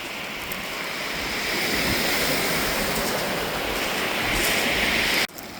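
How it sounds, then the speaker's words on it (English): Ocean waves roll in on the rocky north shore of Malcolm Island, a loud, continuous wash of surf with rocks tumbling and rattling along the beach, close and steady until an abrupt drop near the end. "You can hear as the waves are coming in"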